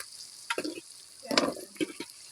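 Potatoes dropped into hot oil in a pan for a Bengali potato dum curry, giving short bursts of sizzling and stirring at close range with quiet gaps between them, no talking.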